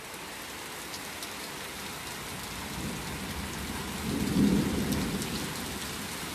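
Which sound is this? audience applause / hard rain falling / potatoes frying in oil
hard rain falling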